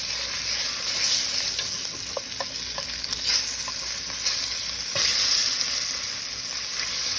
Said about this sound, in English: You want to brown this fat too, get it kind of rendered.